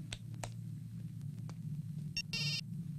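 Telephone ringing during a car scene in a Hindi-dubbed action film, a short electronic ring burst near the end over a steady engine drone and scattered clicks.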